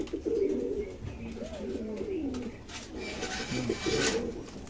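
Pigeons in a loft coo in soft, repeated throaty phrases close by, with light rustling and scraping in the background.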